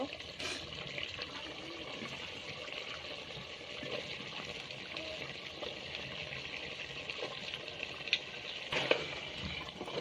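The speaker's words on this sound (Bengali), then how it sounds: "ভালোভাবে নেড়ে দিব" Beef with potato and pointed gourd (potol) stirred in a pan: a steady, fairly quiet wash of sizzling and scraping over ten seconds, with a few brief louder clatters near the end and no talking.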